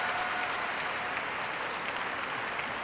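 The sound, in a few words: round of applause at figure skating championships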